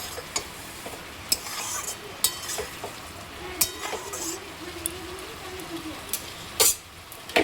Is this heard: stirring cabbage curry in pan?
yes